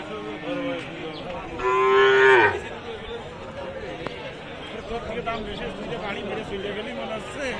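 One loud, drawn-out moo from a young bull or calf rises over the crowd chatter and bustle of the Baro Bazar livestock market, with people talking nearby throughout.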